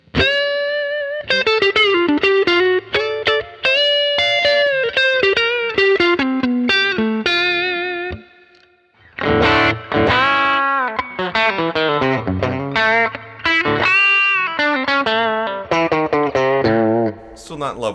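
A 2015 Fender American Standard HSS Stratocaster plays a clean lead tone with effects, bending single-note melodic lines with sustained notes and a short break midway, loud and up front.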